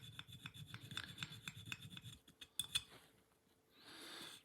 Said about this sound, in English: very fine tooth file. So we don't get a lot of material removed